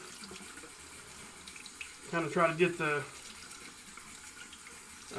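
Warm water runs from a tap onto a wet-shaving brush, a steady hiss through the whole stretch, with someone talking briefly partway through.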